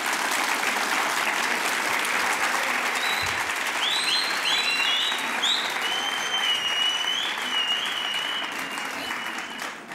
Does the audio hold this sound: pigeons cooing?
no